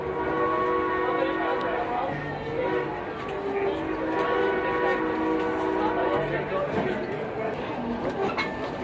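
Steady rumble and rattle of a moving Colorado narrow gauge train car from onboard, with squealing wheel tones and a continuous mechanical drone throughout.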